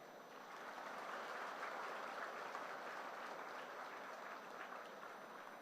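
An audience at an inauguration of first-year engineering and architecture classes claps for the students' parents, a dense, steady roar of many hands that holds evenly throughout without any voices.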